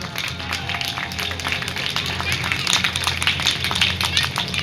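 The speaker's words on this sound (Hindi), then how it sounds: "एक बार ताली बजा दो मैया की।" An audience at a Bhagwat Katha religious discourse claps for the goddess, a dense, steady round of applause from a crowd that continues throughout without any pause.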